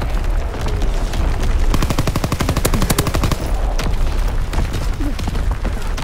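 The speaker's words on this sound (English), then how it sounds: "Coordinates confirmed. Firing on target." Rapid automatic gunfire from a strafing attack in a military video game, loud and continuous, with dense bursts of shots that merge into a sustained roar of fire with booming impacts underneath.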